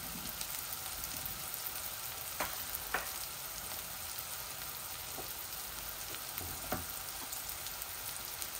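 Turmeric-coated ayre fish pieces fry in a pan with a soft, steady sizzle that stays fairly faint throughout. Occasional light pops and clicks break through, and no one speaks.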